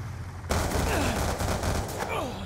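Rapid gunfire from the video game Black Ops 2, loud and dense bursts of automatic shots starting abruptly and continuing throughout, with a player's voice audible under the shooting.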